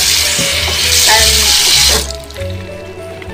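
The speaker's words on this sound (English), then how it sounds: "I'm gonna go and rinse this." Water running from a sink tap over something being rinsed, a loud steady splashing rush that cuts off partway through, leaving quieter dripping and handling sounds.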